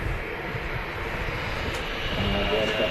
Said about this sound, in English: Embraer 190 just touching down in I think that's the new scheme, Air France.